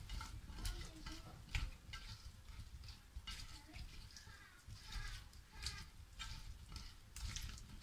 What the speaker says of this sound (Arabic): غادي نخلطهم هكا مزيان مزيان حتى تدخل لهم الشرموله.